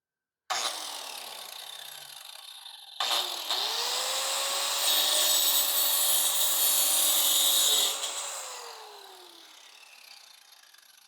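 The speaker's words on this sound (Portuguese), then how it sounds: "Vamos fazer um corte agora nesse tubo de PVC de 20 milímetros." An angle grinder fitted with a tungsten disc slicing through 20 mm PVC pipe: the motor spins up with a loud, high whine, rises in pitch and intensity as it bites into the pipe, then winds down.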